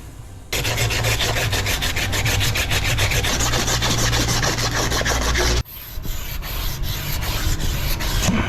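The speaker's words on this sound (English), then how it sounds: "a neighbor's going to bring out some emery cloth and we're going to polish this up." Emery cloth rubs back and forth over a rusty steel transmission bearing retainer from a Tremec T5, a loud, close, continuous rasping scrub with a rapid stroke rhythm and a brief break partway through.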